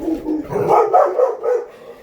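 Forrest and Luna, two pet dogs, bark repeatedly in an uneven burst of loud, close yips and woofs aimed at someone walking down the street outside.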